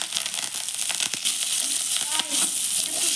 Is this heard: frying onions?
yes